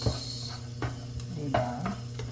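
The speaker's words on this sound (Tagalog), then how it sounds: "Isahin na natin itong ating bawang or ahos." Garlic sautés in a pan with a continuous sizzle, broken by repeated stirring scrapes and light utensil taps close by.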